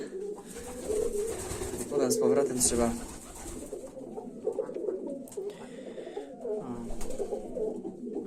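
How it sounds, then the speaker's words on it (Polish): Pigeons coo steadily inside a pigeon loft, a continuous murmuring chorus of several birds close by, while someone talks over them at intervals. "Wszystko gruka żyje, trochę tych gołębi jest."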